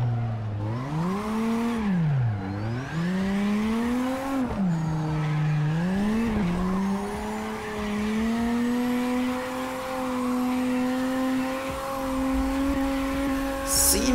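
A tuned Toyota Altezza of 570 horsepower drifts in a racing game, its engine rising and falling in pitch as the throttle is modulated, with steady tire squeal underneath throughout.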